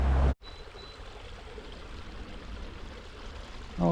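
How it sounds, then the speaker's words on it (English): Steady rushing water from a small waterfall in a brook in Alport spilling over rocks, constant and fairly close, after a brief loud thump at the start. "Stunning little set of falls in Alport."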